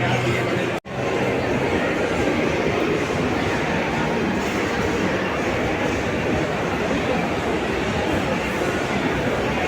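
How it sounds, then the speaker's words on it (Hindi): A toy train ride rolls through a busy shopping mall, a steady continuous rumble and clatter running the whole time under the hubbub of crowd chatter, with one brief dropout near the start. "ट्रेन घूमना। कौन सी ट्रेन?"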